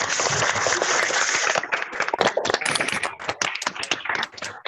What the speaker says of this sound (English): A round of applause and let's welcome Toastmaster Samir.